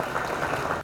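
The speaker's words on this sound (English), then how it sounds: "Please join me, ladies and gentlemen, in giving a big round of applause to our host, Nigeria." Applause for Nigeria as host at a taxation technical conference, a brief burst of many hands clapping in a hall, steady and dense before stopping abruptly.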